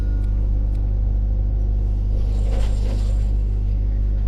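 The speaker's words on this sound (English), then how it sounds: "that was a very chainy truck that just drove past." A heavy truck rumbles past nearby in the video game Detention, a deep, steady, loud drone that swells slightly in the middle.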